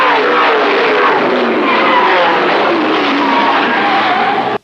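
Race cars at Berlin Raceway skid hard at a late model and sprint event, a loud continuous broadband roar of engines and tire scrubbing that holds steady for several seconds before cutting off abruptly.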